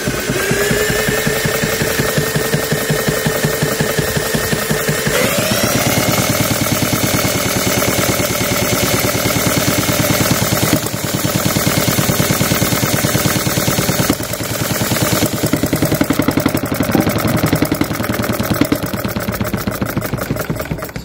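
A model diesel engine with true fuel injection runs steadily, a loud rapid rhythmic chugging that shifts pitch around five seconds in and continues without pause, with no talk.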